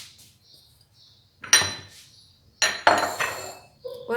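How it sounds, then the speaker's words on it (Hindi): Minced beef dropped into a metal mixing bowl with salt and spices, giving a few close, loud clattering knocks and scrapes of meat and spoon against the bowl, separated by short pauses. "अब इसके अंदर व्यूअर्स हम कीमा डाल देंगे सारा का सारा"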